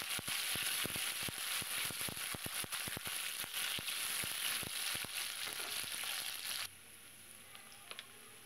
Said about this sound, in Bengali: এবার আলুগুলো তেলের ওপরে দিয়ে দিলাম।